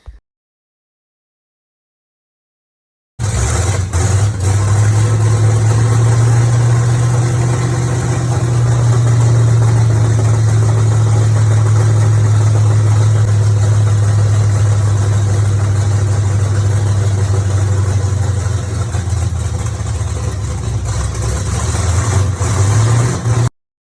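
A Chevrolet Squarebody's newly swapped small-block V8 engine with exhaust cutouts idles steadily for about twenty seconds with a deep, even rumble and a slight rough vibration, after a few seconds of silence at the start.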